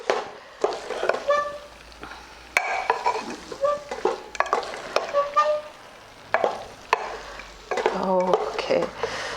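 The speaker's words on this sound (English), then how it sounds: "Now let's add the potatoes. mix that in as well." Potatoes stirred into a frying aloo matar gravy, Punjabi style, with repeated scraping and clanking of a spoon against the pot over a soft sizzle; a person talks throughout.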